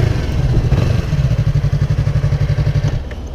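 A Kawasaki Z300 motorcycle engine idles close by with a loud, even, rapid pulsing beat, revving briefly before settling into a steady chugging rhythm.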